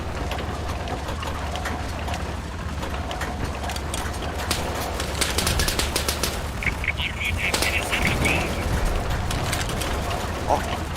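Tank turret gunfire in the WWII shooter game Easy Red II: rapid, rattling bursts of automatic fire mixed with mechanical clatter, sounding moderately close, under ongoing conversation.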